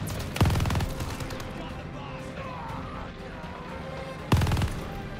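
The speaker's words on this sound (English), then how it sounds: "I will try to shoot Luke Skywanker out of the sky" Two loud bursts of machine-gun fire in Call of Duty: Vanguard's Tobruk desert battle, several seconds apart, with a steady engine-like drone and a voice speaking in between.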